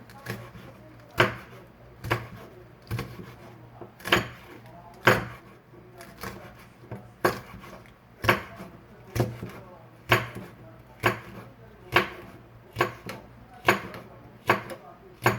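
A knife chops through chili peppers on a cutting board while making Gyeongsang-style gochu-jangmul, the blade striking in a steady run of sharp, close, regular thuds that carry on throughout without any voices.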